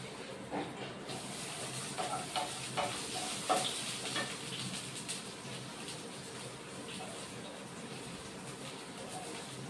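Potatoes dropped into hot oil with bay leaf for a paneer curry, a soft steady sizzle with a few clinks and stirring scrapes early on, fairly quiet and close.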